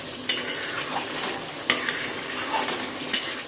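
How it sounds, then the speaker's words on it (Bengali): A spoon stirring raw mustard oil into a pointed gourd poppy-seed curry in a pan, soft scraping and faint sizzle punctuated by three sharp clinks of utensil against the pan, with no voices. "কাঁচা সর্ষের তেল দিয়ে একটুখানি মিশিয়ে নিলাম।"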